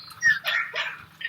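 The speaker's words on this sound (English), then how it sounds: "Whose dog is that?" A dog gives a few quick, fairly loud barks and yips in close succession, with a soft mechanical hum running underneath.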